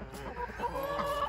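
A rooster gives low, throaty clucks close by over a soft outdoor background.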